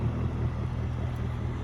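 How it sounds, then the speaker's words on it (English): Low, steady rumble of a Mercury Verado 300 outboard with sport exhaust on a 2025 Harris Grand Mariner 250 pontoon boat, idling evenly and moderately close, with wind noise over the microphone. "You can probably hear that sport exhaust on there now."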